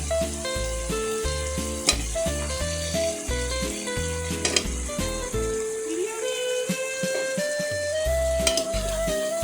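Pumpkin, pointed gourd and potato fry in a pan with a steady sizzle. Repeated scraping stirs and clatter are heard nearby, along with a brief gush of water midway. A faint tonal hum runs underneath throughout.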